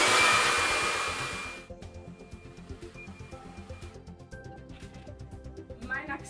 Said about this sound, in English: I'm grabbing at the root and lifting up and then hitting with my blow dryer to achieve more volume.